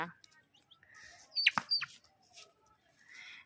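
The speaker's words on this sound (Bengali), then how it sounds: "মুরগিগুলো দেখো, এই মুরগি দুটো দেখো, দেখো।" A few short clucks and squawks from chickens close by, scattered among quiet moments and faint background voices.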